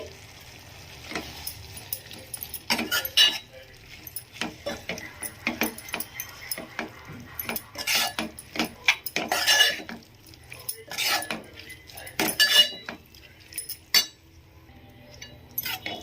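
Chopped gangavayili leafy greens being stirred into a pot of cooked moong dal with a metal spoon, giving irregular clinks and scrapes against the pot over a low background hum, with no talking.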